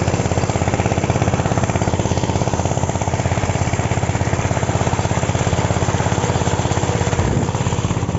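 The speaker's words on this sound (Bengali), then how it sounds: "তো গাইস মেশিন আগে স্টার্ট করে দিয়েছি" Water pump engine running in a village field, a loud, steady, rapid thumping diesel-like chug that continues without a break.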